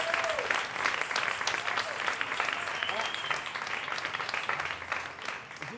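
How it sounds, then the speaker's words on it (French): Audience applause at a French-language live stage event: dense, steady clapping from a crowd that fills the whole stretch, with voices carrying over it and fading slightly at the end. "on applaudit pour vous"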